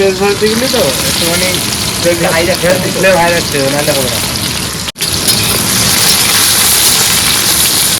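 Onions frying in hot oil for chicken biryani give a loud, dense sizzle with constant crackling; a voice talks over it for the first half, then the frying continues alone.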